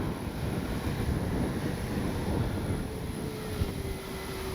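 An RC P-47 Thunderbolt model plane flies overhead with a steady droning motor whine, continuous and moderately loud, mixed with wind rumble on the microphone.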